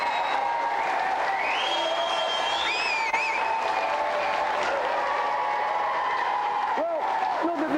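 Studio audience on a 1993 games show applauding the week's winner, sustained loud clapping with cheers, while a presenter talks and some electronic tones and music chime in over it.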